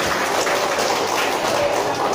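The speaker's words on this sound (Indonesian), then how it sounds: "Tepuk tangan untuk kita semua." Applause from a group of people, steady dense clapping filling the short clip at moderate loudness with no talk over it.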